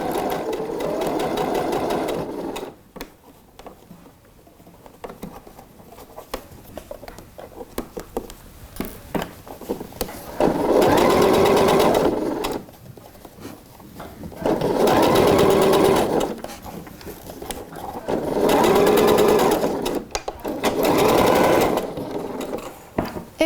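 A domestic sewing machine stitches fabric while a garment armhole is sewn, running in several loud, steady bursts of a few seconds each, separated by quieter handling noises, with no speech.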